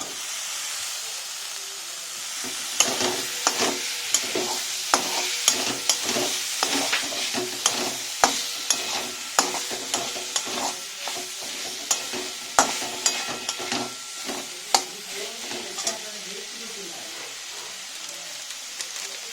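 Chopped tomato frying with masala in hot oil for home-made chicken biryani: steady loud sizzle and hiss with frequent sharp spatula scrapes and clicks throughout, no talking.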